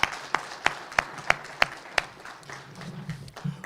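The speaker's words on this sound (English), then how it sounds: "another round of applause" Applause at a blockchain conference session in Wyoming, heard as a handful of sharp separate claps in a loose rhythm that fade into a low murmur of room noise, fairly quiet and somewhat distant.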